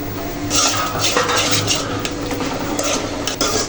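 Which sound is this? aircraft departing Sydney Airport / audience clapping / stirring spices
stirring spices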